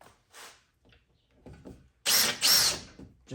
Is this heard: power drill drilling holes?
yes